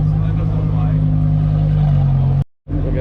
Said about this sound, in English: Got the new Huracan Evo pulling through with Vorsteiner wheels.